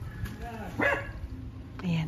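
A dog greeting visitors at a house gives a couple of short barks at moderate distance, one sharp bark midway and another near the end, over faint background noise.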